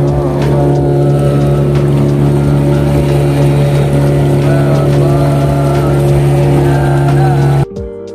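A motorboat carries visitors clockwise around an island on Situ Lengkong lake at Panjalu, its engine a loud, steady drone close by that runs unbroken and cuts off abruptly near the end.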